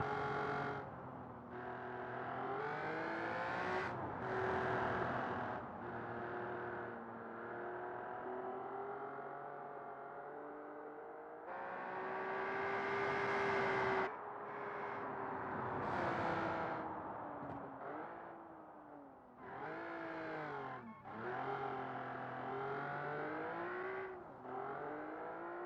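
A supercar engine from the Automation video game revs hard through a hot lap, rising and dropping with each gear change and corner, loud and close throughout, with brief tire squeal and no talking.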